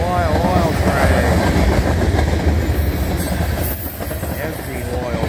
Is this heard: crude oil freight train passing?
yes